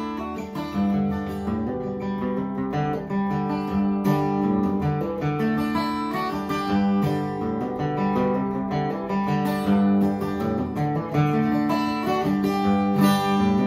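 A 1953 Gibson J-45 acoustic guitar plays a flat-picked song with ringing, sustained strings, steady and close throughout.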